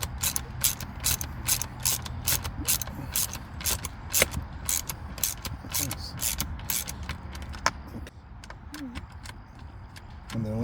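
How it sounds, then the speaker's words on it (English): A ratchet wrench loosening a 10 mm nut on a Chevy Traverse gear shifter, clicking in a fast steady rhythm close up, with a pause and a faint metallic squeak near the end. "loosening this 10 millimeter nut"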